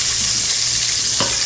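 Sliced onions hit a hot pan and sizzle loudly in a dense, continuous hiss, with a brief scrape of stirring near the end and no voices.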